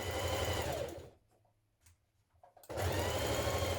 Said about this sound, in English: So we're going to stitch that and then we're going to go over it and stitch it again.